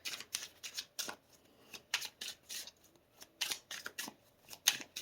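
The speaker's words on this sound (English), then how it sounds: "One more shuffle." Tarot cards shuffled by hand in quick riffling bursts, about a dozen short papery flutters with brief pauses between, close and quiet, no voices.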